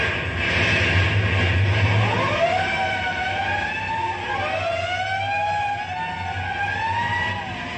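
A fire engine siren wails in rising and falling sweeps as the truck responds to a box alarm in an old radio drama, loud and continuous over a low engine rumble, with no talking.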